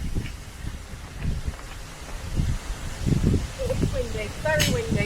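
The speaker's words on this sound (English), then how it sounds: "Oh, it's windy today." Gusty wind buffeting the microphone beside a moored narrowboat on a canal, rumbling in uneven bursts, with people talking and birds calling briefly near the end.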